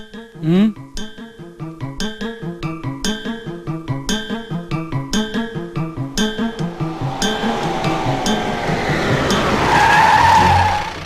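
A car arrives with tires skidding and squealing, a repeating rhythmic screech building over several seconds to a loud, close finish.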